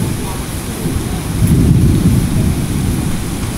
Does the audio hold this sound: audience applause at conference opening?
no